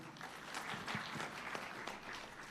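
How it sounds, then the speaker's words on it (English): Short burst of audience applause at a formal financial inclusion anniversary event, fairly faint and distant, a steady patter of clapping hands. "A big round of applause."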